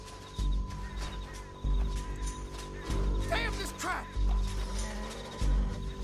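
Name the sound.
horse hooves in Red Dead Redemption 2 video game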